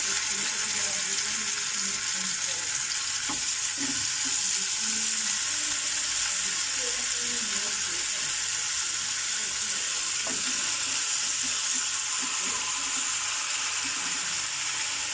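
Tandoori chicken cooks in mustard oil over a slow flame, giving a steady, close, continuous sizzle and fry with a few faint stirring knocks and no talk.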